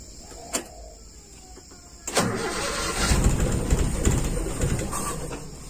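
A Toyota Kijang with a carburetor engine is started: a click, then the starter cranks and the engine catches into a loud, steady idle, close by. Birds chirp faintly in the background.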